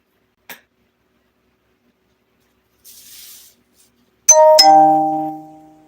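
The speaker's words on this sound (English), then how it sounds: "Well, I've got a lot of notifications." A few short electronic chimes ring out near the end, a bright ding followed by a ringing tone that fades, after scattered faint clicks and a brief hiss; no speech is heard.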